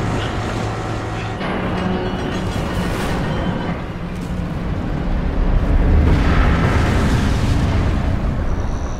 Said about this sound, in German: Wenn das explodiert, Güte Nacht, Alter.